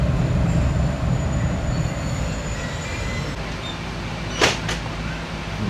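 A passenger train, the 39 Up, waits at Lahore station about to depart, a steady low rumble of engine and carriages with a brief sharp high squeal near the end.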